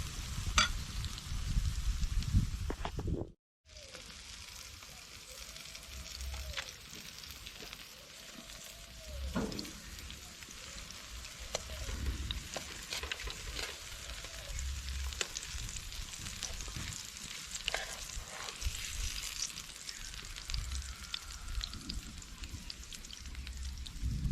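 Steady, crackling sizzle of curry lobster fritters frying in hot oil, continuous throughout apart from a brief cut near the start, with occasional soft clinks.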